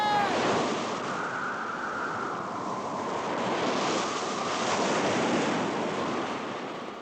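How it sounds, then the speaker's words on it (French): Furious wind and crashing waves in a storm at sea off Antarctica, a steady loud roar of gusts and surf with no letup and no voices. "Sans aucun signe précurseur, en 5 minutes, un vent furieux s'est levé."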